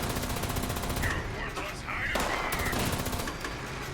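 Heavy weapon fire in the video game Fallout 76 comes as a loud, sustained automatic stream of rapid, dense shots that runs through the whole clip with hardly any pause.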